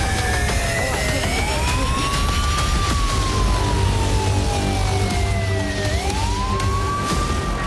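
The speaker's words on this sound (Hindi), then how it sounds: "लेकिन अचानक यूक्रेन के कई शहरों में सायरन बज उठी।" Air raid sirens wail across a Ukrainian city during a wartime attack, long rising and falling tones repeating steadily over a constant low rumble, loud and continuous with no speech.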